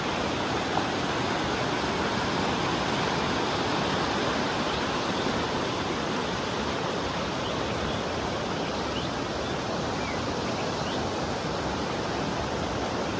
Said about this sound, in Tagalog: Medyo malakas yung agos.